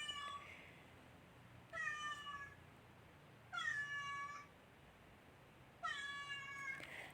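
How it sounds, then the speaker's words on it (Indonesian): An adult cat meows three times at a steady spacing, each call a clear drawn-out tone, close but soft against a quiet background hiss. "kalau kucing mengeong ya, kucing dewasa ini mengeong kebanyakan untuk berkomunikasi dengan manusia"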